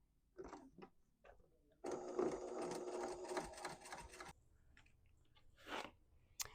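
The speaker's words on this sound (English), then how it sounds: "I'm going to sew each side at 1/4 inch seam allowance" A sewing machine stitching the fabric edges of a potholder at a narrow seam allowance, one close steady whirring run of about two and a half seconds, with softer handling noises before and after.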